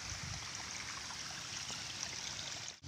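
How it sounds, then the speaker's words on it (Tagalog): Water spills over the edge of a full box into a rice field, a continuous trickling, gurgling stream heard close and fairly quiet, with no talk. "meron namang nag-spill ng mga tubig galing dyan, kasi napuno na yung kahon ng tubig"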